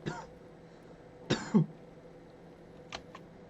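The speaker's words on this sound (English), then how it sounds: "Apologies for all the coughing." A few short, sharp coughs and a throat clear break an otherwise quiet room, clustered in two bursts with brief pauses between.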